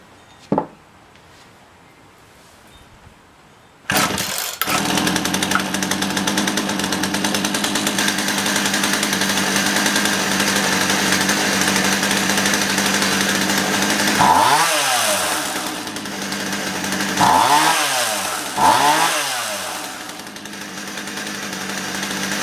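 A Poulan 2150 chainsaw starts with a pull, then idles loud and steady, close by, and revs up three times with rising and falling engine whines.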